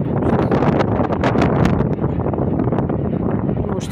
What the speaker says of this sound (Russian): Можете сравнить, как ветер дует.